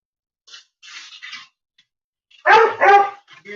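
A dog lets out a few soft, clipped yips, then after a pause two loud, close barks followed by a quieter whimpering bark, with no other sound between.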